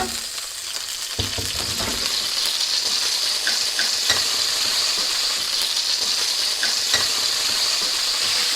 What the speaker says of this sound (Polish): Wlewamy na rozgrzaną patelnię olej, odrobinę sosu sojowego